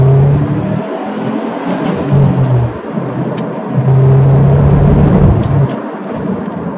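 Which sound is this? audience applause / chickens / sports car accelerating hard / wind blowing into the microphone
sports car accelerating hard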